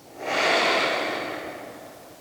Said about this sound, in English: Big inhale through your nose. And then exhale out through your nose.